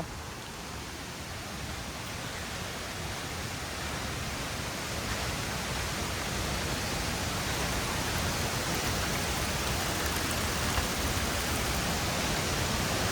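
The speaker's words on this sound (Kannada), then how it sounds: "ಮಳೆ ಜೋರಾಯಿತು ಅನ್ಕೋತೀನಿ" A dense, even wash of heavy rain at a temple near a waterfall roars continuously at high volume, steady from start to finish with no voices.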